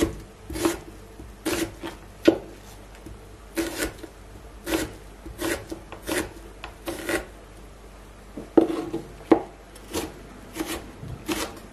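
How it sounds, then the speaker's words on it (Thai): Cod fillet being cut into small cubes with a knife on a board: a steady series of sharp, close chopping taps at an uneven rhythm, with no talking. "แล้วก็หั่นนะคะหั่นเป็นสี่เหลี่ยมลูกเต๋าเนาะเล็กๆอ่ะ"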